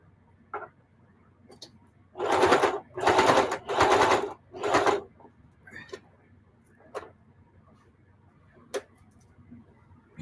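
A domestic sewing machine stitching in short bursts, four loud runs of a few seconds each with pauses and soft clicks between, close by at a home crafting table.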